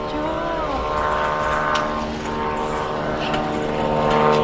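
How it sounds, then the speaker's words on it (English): A loud propeller airplane passes overhead outside a Costco, its steady engine drone with harmonic whine building slightly throughout. "Well, there's a loud plane."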